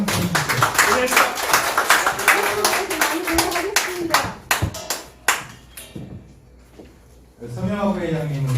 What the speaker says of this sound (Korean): 박수 한번 크게 한번 보내주세요.